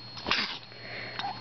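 A single small baby sneeze up close, a short sharp burst followed by a faint sniff, quiet and without talking.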